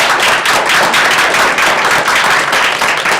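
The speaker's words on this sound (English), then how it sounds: "so we can applaud you and thank you" An audience at a college board meeting applauds staff standing to be thanked: a dense, continuous burst of many hands clapping, loud and close, filling the room without pause and without talk.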